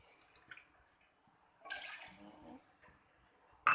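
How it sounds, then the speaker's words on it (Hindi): Water, measured out as four cups, pouring into a pot on a gas stove for masala chai: a short, splashy gush near the middle of the clip, surrounded by faint kitchen handling noises. "4 लोगों के लिए बना रहे हैं तो 4 कप पानी डाल देंगे नाप के।"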